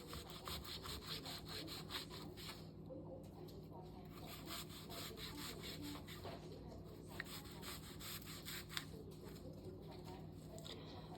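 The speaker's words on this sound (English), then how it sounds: "you're going to make horizontal slices towards the root," A knife makes horizontal slices through a peeled onion toward the root, a faint, rapid rhythmic rasping and scraping that repeats steadily throughout, with quiet speech faintly present.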